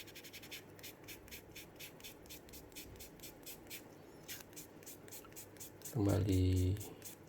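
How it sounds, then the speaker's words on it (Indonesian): Steady, rapid back-and-forth rubbing of ultra fine sandpaper on a plastic model kit part, soft and evenly rhythmic, with a brief voice breaking in near the end. "Kita gunakan amplas yang ultra fine kembali"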